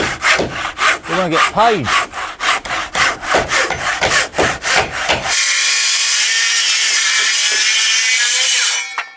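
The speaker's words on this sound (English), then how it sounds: "Demolition blades from Milwaukee. Sawzall blade." A Milwaukee Sawzall fitted with a demolition blade saws through wooden roof rafters on an orangery build. Loud, rapid reciprocating strokes come first, then a steady high whine at full speed. Someone speaks briefly over the saw.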